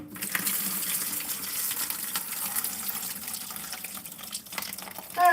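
Water spilling and gushing from a toilet tank as parts are pulled out during a DIY toilet repair, a steady close pour that runs throughout with a brief louder splash at the end.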